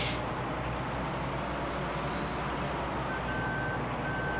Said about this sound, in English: siren, backup alarm beeps.